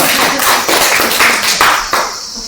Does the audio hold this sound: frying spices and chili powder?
no